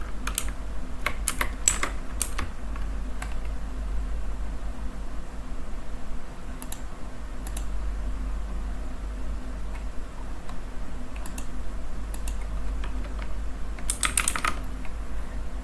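Clattering keystrokes on a computer keyboard during online address entry, arriving in irregular bursts and single taps over a steady hum of fan noise, close and clear, with no talking.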